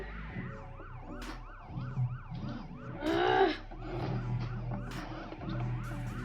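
A video-game police siren wails, cycling up and down continuously over engine drone and game sounds, with a brief higher screech midway.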